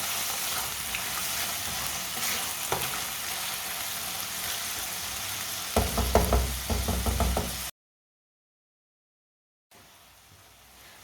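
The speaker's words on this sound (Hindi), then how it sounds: "1 प्याली मटर, अच्छी तरह मिक्स कर लेंगे मटरों को भी।" Peas stirred in a frying pan with a steady sizzle and a few knocks of a spoon against the pan, growing briefly louder, then cutting to silence before a faint return.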